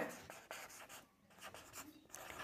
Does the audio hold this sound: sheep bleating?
no